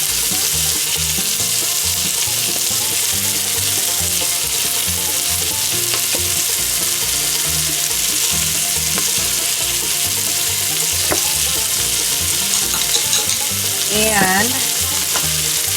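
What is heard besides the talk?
garlic frying and sizzling in a pan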